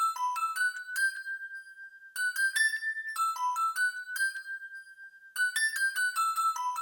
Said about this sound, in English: I started off with these bell sounds.